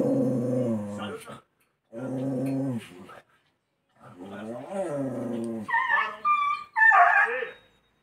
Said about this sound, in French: Il y a eu la guerre des chiens là